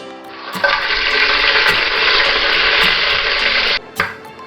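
Whole spices for chicken biryani (shahjeera, star anise, cardamom, cloves, peppercorns, cinnamon and bay leaf) land in hot oil, giving a loud, steady sizzle that lasts about three seconds and then cuts off sharply, with a few soft clinks around it.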